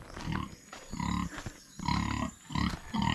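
Domestic pigs in a farm pen grunt in a steady rhythm of four loud, close, rough bursts with brief pauses between, with no talking.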